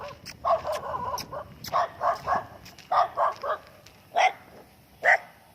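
A dog barks in short bursts, about eight or nine sharp, moderately loud barks in an uneven rhythm with brief pauses between them, heard alone with no talking.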